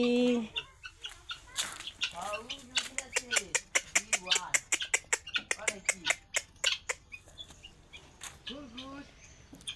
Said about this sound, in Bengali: এইখানেও 2টা চিল মোরগ আছে।